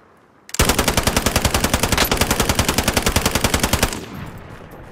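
A long automatic burst of gunfire in Call of Duty: Modern Warfare, rapid evenly spaced shots for about three seconds, loud and close, starting abruptly and ending in a short decaying tail.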